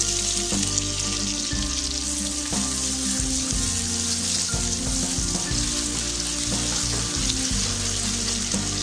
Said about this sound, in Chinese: 起锅烧油，放入准备好的配菜翻炒